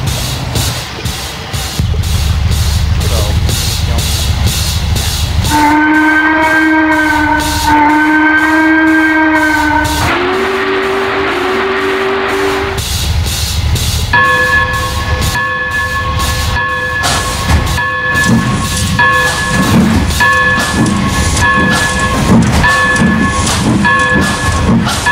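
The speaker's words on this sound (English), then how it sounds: "We're driving three Norfolk and Western Railroad steamers." Three Norfolk and Western Railroad steam locomotives, Consolidation No. 7, J-Class 611 and Atlantic No. 606, run with a steady loud rumble while their whistles sound several long, held blasts.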